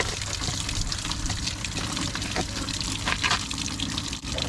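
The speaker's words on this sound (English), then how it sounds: "I've just caused a raging torrent of water." Water gushes steadily out of a BMW body drain channel after its small rubber bung is cleared, a continuous close-up rushing splash that stays strong throughout with no talk.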